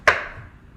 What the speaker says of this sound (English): And then we turn the onion and we cut